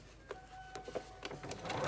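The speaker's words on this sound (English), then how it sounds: "you put it on your machine, make sure everything's lined up, and just stitch a little" A sewing machine stitches along the raw edge of a fabric mask, giving a quick series of close, rhythmic mechanical needle bursts that grow busier toward the end.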